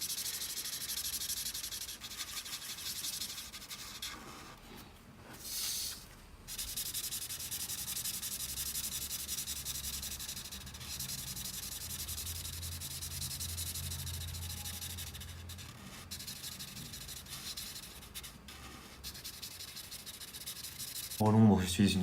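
A vanilla-colored marker is stroked across paper to color a character's skin in a drawing, making faint, close, scratchy rubbing strokes repeated in a soft, uneven rhythm.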